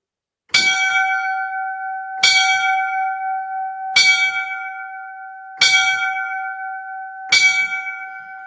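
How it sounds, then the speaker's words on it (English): Five clear memorial bell strikes toll one by one at slow, even intervals, each ringing on and fading before the next. "We're going to pay our respects with the 5 bells."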